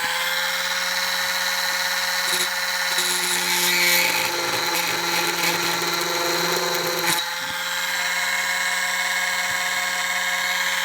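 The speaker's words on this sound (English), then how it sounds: "Now I'm going to drill a hole between the two that are" A power drill bores a hole in a workpiece, its loud steady whine running continuously for about seven seconds against a constant background hum before cutting off.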